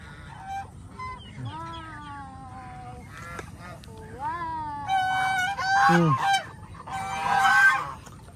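Geese on a provincial farm in Guimba, Nueva Ecija honk repeatedly in overlapping calls, some nearer and louder, growing busier toward the end.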